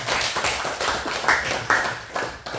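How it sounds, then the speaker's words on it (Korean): Scattered audience clapping during a church health lecture on joint care, a few sharp claps standing out over a steady murmuring room noise. "박수 치십시오."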